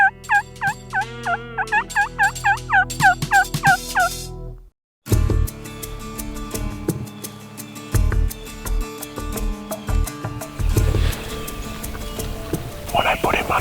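Wild turkey gobbling on Montana public land, a burst of rapid rattling gobbles at the start, followed after a brief silence by clattering noises and a person talking.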